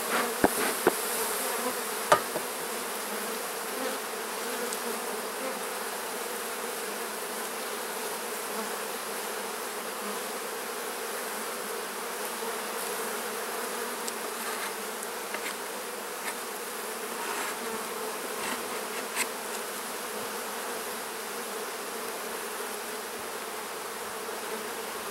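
Honey bees buzz inside an open hive, a dense, continuous drone heard close for the whole stretch, with a few faint knocks and taps in the opening seconds.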